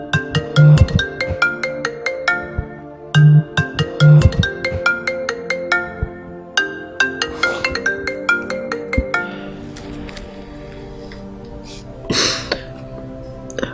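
A phone ringtone plays a repeating melodic pattern in several bursts, loud and close, with a cough or throat clearing near the end.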